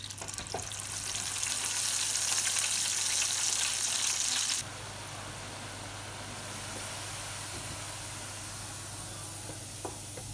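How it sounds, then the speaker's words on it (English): Chips blanch in a fryer of hot oil at 150 degrees, a steady close bubbling sizzle that is louder for the first few seconds before settling to a softer, even hiss. "I'm gonna blanch these now in hot oil at 150 degrees, just until they start floating towards the top of the oil"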